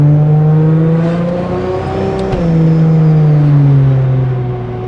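A car with a Barra engine accelerates smoothly, its steady engine drone climbing in pitch, dipping at a brief shift, then pulling on strongly and close throughout with no talking.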